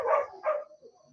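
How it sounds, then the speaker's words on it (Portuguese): A female dog gives two quick barks close by, the first longer, then fades into quieter whimpering tones while a garbage truck passes on the street outside. "Está passando o lixeiro e a cachorra vai enlouquecendo."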